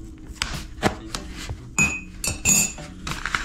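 A metal spoon prying at camera box packaging gives close scraping, clicking and tapping in uneven bursts, with a few sharper squeaks of cardboard and plastic.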